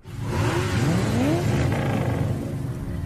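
Racing cars on a private circuit accelerate hard, engines rising in a rapid upward whine with overlapping revs, close and loud over a rumbling roar, with no talking.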